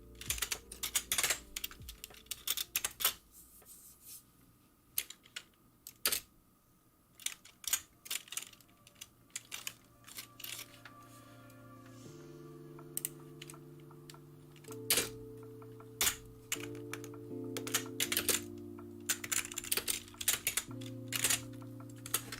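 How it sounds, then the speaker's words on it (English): Fingers type on a computer keyboard in quick bursts of sharp clicks and clacks, close and fairly quiet, with short pauses between runs and a faint hum underneath. "Have some more keyboard ASMR."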